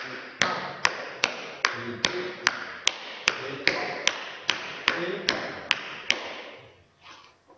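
Tap dance steps in tap shoes, opening with a flap: about fifteen sharp, evenly spaced metallic taps in a steady rhythm, close and clear, with a voice counting beats partway through before the steps stop.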